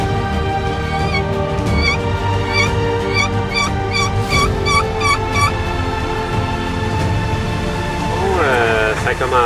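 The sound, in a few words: wild turkey gobbling during turkey hunt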